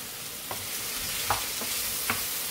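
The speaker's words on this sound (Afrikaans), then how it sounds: "Dan gaan ek dit ook net gou bietjie braai saam met die hoender." Chicken pieces and green peppers sizzle steadily in olive oil in a single pan, with a few soft stirring scrapes breaking through the constant frying hiss.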